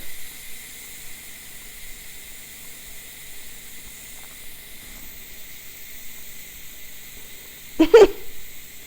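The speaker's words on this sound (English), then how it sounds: "I'm going to release the steam. This is the manual release, steam releaser." A Pampered Chef electric pressure cooker vents steam through its manual release, making a steady, faint hiss that swells into a louder, close burst of rushing steam near the end; the cooker holds boiled eggs.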